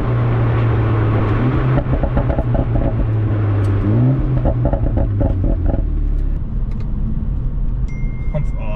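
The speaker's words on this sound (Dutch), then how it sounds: "Oh, dan hoor je die uitlaat toch wel heel goed, hè." Exhaust of an Alpina B4 S BiTurbo cabrio, heard from inside the car as a steady low engine drone that rises and falls with revs, with some crackle near the end and road noise throughout.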